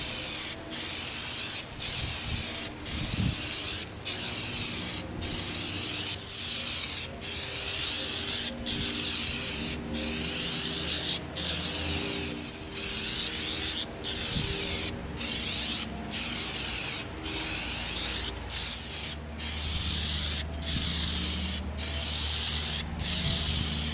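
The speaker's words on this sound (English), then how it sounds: "Now we're going to coat our shield with our plastidip so it's ready to paint." Plasti Dip coating sprayed from an aerosol can onto an EVA foam Viking shield, a loud close hiss in repeated long bursts separated by brief gaps, alone without talk.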